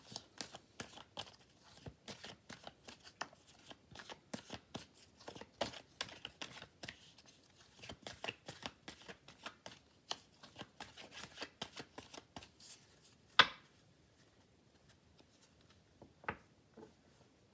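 Fortune-telling cards handled and shuffled close by, quick rapid flicks and soft slaps in a steady patter that thins out to a few isolated taps near the end.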